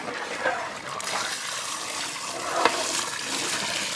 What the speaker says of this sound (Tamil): கறி வேகிறதுக்கு தண்ணி,